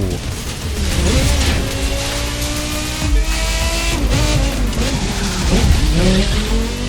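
A Porsche Carrera GT races in The Crew 2, its engine revving loudly and shifting pitch through gear changes while tires squeal and skid, close and continuous with no talk.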